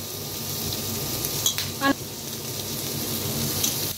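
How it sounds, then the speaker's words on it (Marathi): Onion and tomato frying in oil with a continuous close sizzle, broken by a couple of brief stirring clinks of a utensil against the pan. "तर बघा कांदा टमाटो छान असं भाजलंय।"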